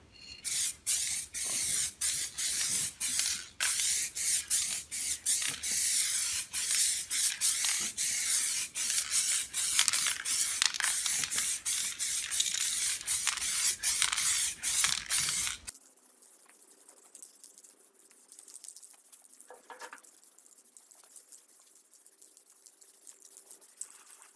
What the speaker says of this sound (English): this is the final step, the clear coat. You want to be careful with this not to get runs